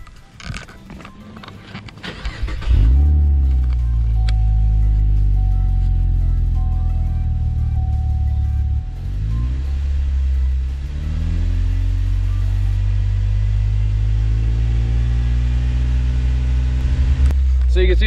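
A car's exhaust, heard from outside, idles loudly with a steady low rumble after a brief revving start, a deep continuous drone lasting the whole stretch.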